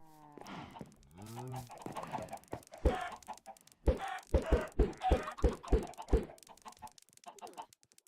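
Minecraft chickens cluck in short, repeated bursts, joined by a rising bird call and other farm-animal sounds, moderately close and fairly quiet.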